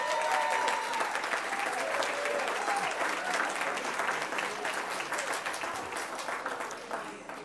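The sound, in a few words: round of applause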